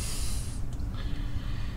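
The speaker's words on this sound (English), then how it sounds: "take some contact cleaner, something cold, and spray it just on the pilot bearing" Contact cleaner is sprayed onto the pilot bearing of a C5 Corvette during a clutch replacement, a close, loud aerosol hiss lasting about half a second, followed by a fainter, softer hiss.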